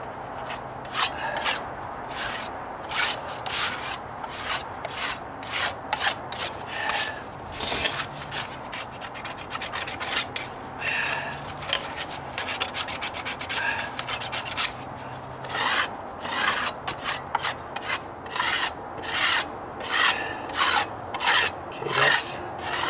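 Scraping at a dry rotted wooden deck step, a continuous run of short, raspy strokes at close range, steady and rhythmic throughout.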